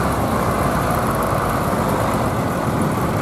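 A John Deere 820 tractor's horizontal two-cylinder diesel engine runs steadily at a ploughing match on a farm, a dense continuous low rumble at close range with no voices over it.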